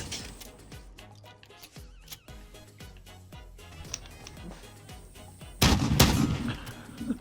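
Shotgun fire in Modern Warfare, with repeated sharp shots at a steady rhythm and then a louder, denser blast near the end, heard alone without talk.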